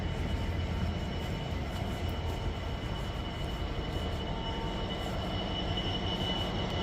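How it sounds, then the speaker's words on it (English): A freight train rolls through Rugby station on the West Coast Main Line, a steady, continuous rumble of wagons and rail noise holding level and close for the whole stretch, with no voices. "And then we've got another freight train coming in through here."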